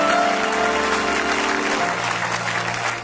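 A church congregation applauding and cheering at a pastor's sermon, a steady, loud wash of clapping that lasts throughout and tapers slightly at the end.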